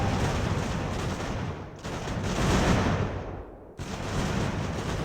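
Artillery fire in the Age of Sail naval and land battle game Ultimate Admiral, a dense continuous roar of booming gunfire and rumbling blasts with brief dips, loud and sustained.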